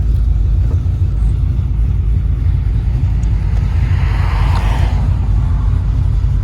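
A 1995 Impala SS with a 383ci V8 and big cam idles with a steady, loud low rumble that swells briefly as the throttle is blipped, no one speaking.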